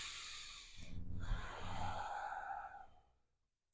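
Slow, audible yoga breath work during a relaxing class, with a long breathy exhale swelling and then fading into near silence, close and unaccompanied by talk.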